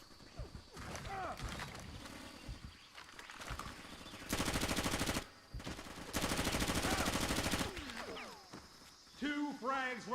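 Silenced gun firing in Far Cry Instincts on the original Xbox, two sustained bursts of rapid suppressed shots, loud and close, with voices and game sounds around them.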